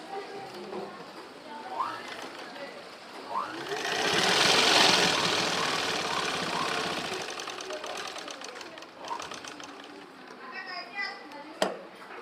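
A sewing machine stitches a small child's frock for a 3–4 year old, whirring up to a sustained run mid-clip before tapering, with a voice talking quietly in the background.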